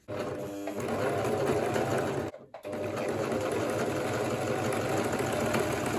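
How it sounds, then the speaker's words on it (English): A sewing machine stitches bias tape onto a neckline, running with a steady, rapid mechanical whir and hum, pausing briefly near the middle before resuming, close and loud. "And if you want to sew, you must make sure you sew along the straight line that is on the bias."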